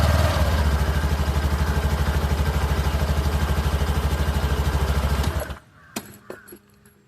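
A 2025 Honda Activa 125 BS6 scooter engine idles loudly and close with a steady, rapid pulsing beat, then cuts off abruptly, leaving near silence and a few faint clicks.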